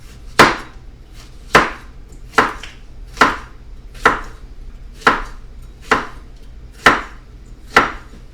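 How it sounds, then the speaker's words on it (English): Nine sharp, evenly spaced knife strokes cut lengthwise through cooked organic chicken on a cutting board, each landing as a crisp close thud about once a second, with no talking. "Just got to make some slices here."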